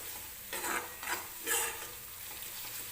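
A spoonful of coarsely ground coconut is roasted in oil for a potato curry while it is stirred. A soft, steady sizzle runs throughout, and three brief scraping swishes of the spoon rise above it.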